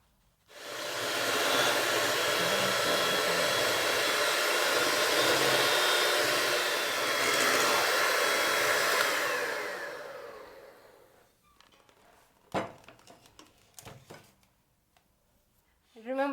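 An electric mixer beating icing sugar for vanilla buttercream whirs loudly and steadily for about nine seconds, then winds down and stops, followed by a few soft clatters and someone speaking.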